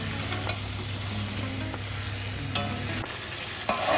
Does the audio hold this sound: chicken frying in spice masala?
yes